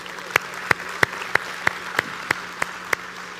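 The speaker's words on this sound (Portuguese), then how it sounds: "Você pode aplaudir ao Senhor por isso?" Steady, evenly spaced claps ring out about three times a second, sharp and rhythmic like a single pair of hands clapping over faint background noise, at a church service.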